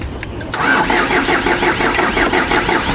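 A freshly repaired engine is started: a short crank catches abruptly and settles into a loud, steady, close idle that runs to the end, with no talking.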